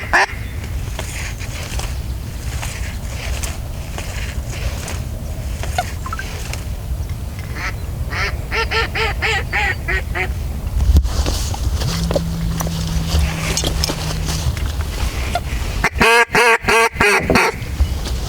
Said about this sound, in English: These are mallards.